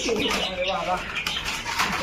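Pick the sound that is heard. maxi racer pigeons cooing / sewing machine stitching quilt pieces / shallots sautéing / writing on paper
maxi racer pigeons cooing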